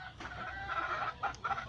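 Chickens clucking and a rooster on a game farm, a steady close flock chatter with brighter individual calls rising near the end, no talk over it.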